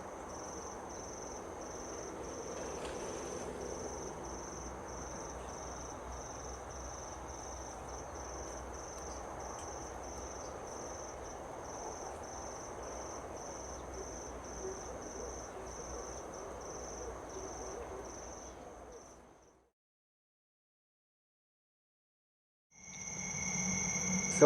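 Phrynobatrachus natalensis frogs calling in a steady, dense chorus of rapid clicking trills with a high repeated tone, continuous for most of the clip before cutting to silence, then resuming briefly.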